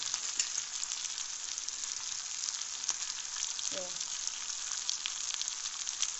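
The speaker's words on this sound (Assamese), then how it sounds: "এতিয়া পিঁয়াজ নলা দিলোঁ, এইখিনি ফ্ৰাই কৰি হ'লে" Onion stalks frying in a pan for a chicken dry fry, a steady close sizzle and crackle running through the whole stretch with a brief stirring scrape partway, no voices.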